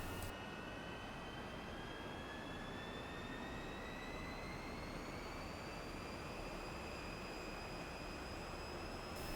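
A MiG-15bis jet engine in a DCS flight simulator spools up to higher RPM, a steady loud turbine roar with whining tones rising slowly in pitch, continuous throughout with no talk.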